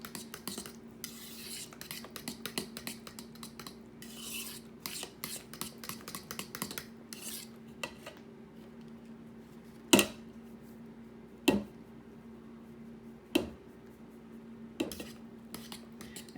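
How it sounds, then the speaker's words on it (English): Utensils scraping and clinking in a bowl while banana bread dry ingredients are mixed, a busy run of small taps and stirring scrapes, then several louder knocks against the bowl, with a low steady hum underneath. "Destiny's gonna mix all that up and then combine both of them together."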